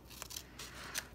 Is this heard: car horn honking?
no